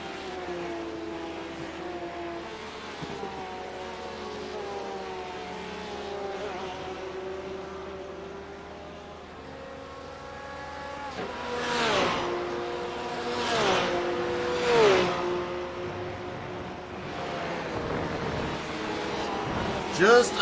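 GT3 race cars lapping the Red Bull Ring in a season-finale race, their engines whining and shifting pitch through gear changes, with several louder passes building toward the end. A commentator talks steadily over the engine noise.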